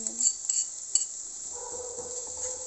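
Chopped garlic goes into mashed tomatoes in a cooking pan, with a few quick metallic clinks and scrapes of a utensil against the pan over a faint sizzle.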